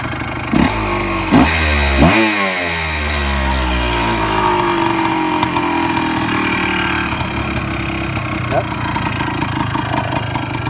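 A restored 1977 Suzuki PE250 motorcycle engine runs close by with several sharp revs at the start, then settles into a steady, loud idle, with a person talking over it.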